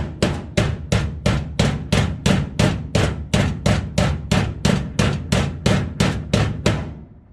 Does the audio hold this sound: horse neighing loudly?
no